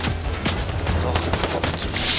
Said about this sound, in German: Hör auf zu schießen, Mann.